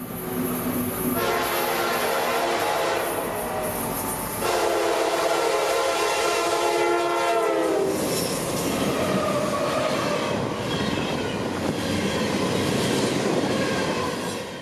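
CSX freight train 441 on the Florida S Line mainline rushes past at track speed, its horn blaring with tonal blasts before the roaring, rattling wagons and wheel noise take over, loud and sustained throughout.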